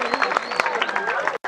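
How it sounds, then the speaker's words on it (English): An audience at a reality TV show event claps its hands together in a steady, busy patter, with a loud voice speaking over the clapping throughout. "If you're happy, can you clap your hands?"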